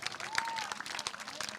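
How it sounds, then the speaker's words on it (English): Spectators at a John Deere Classic kids golf clinic give a short burst of crisp applause, faint and somewhat distant, with a few mixed cheers. "Huge applause."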